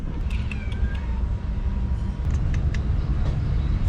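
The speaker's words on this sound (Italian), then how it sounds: "Più gatti." Several cats meowing in a warm outdoor setting in Indonesia, short high cries scattered through a few seconds over steady low background rumble, no talking.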